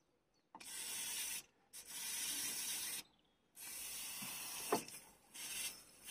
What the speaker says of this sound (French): Je vais déjà mettre WD-40